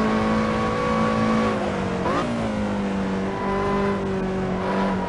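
A Lotus race car in Assetto Corsa laps Silverstone National, its engine droning steadily up close with a quick pitch dip and recovery partway through, as from a gear change.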